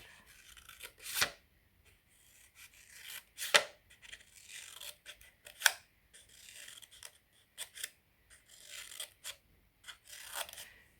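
Scissors snip through material on a plant-care bench, giving several short, crisp cuts spaced irregularly with quiet pauses between them, close and fairly faint, with no talking.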